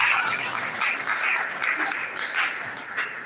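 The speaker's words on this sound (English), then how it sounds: "a round of applause for Chancellor please" Audience applause for a Chancellor after a presentation at a Nigerian public leadership event, a continuous, fairly loud roomful of clapping that holds steady throughout without speech.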